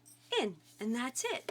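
A pet dog whimpering indoors in a few drawn-out, high whining cries with falling pitch, fairly close, mixed with a person talking quietly.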